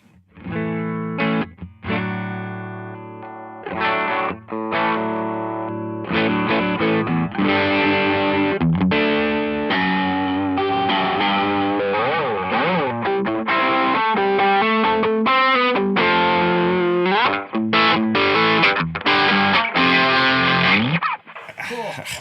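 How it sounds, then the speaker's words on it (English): Distorted electric guitar through an Electro-Harmonix Soul Food overdrive pedal plays chords and riffs with a medium overdriven crunch, sustained and fairly loud, pausing briefly between phrases. "there's quite a bit of gain there. I mean, yeah, it's medium overdrive"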